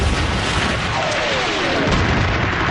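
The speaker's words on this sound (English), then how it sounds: "Montgomery launches his offensive with a preliminary artillery barrage, followed by a massive tank assault" An artillery barrage in a WWII desert battle at El Alamein pounds as a dense, continuous roar of booms and blasts, loud and full.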